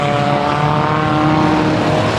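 Enduro race cars roar past on a speedway oval, a dense, loud, steady engine drone with several overlapping tones sustained throughout, no voices.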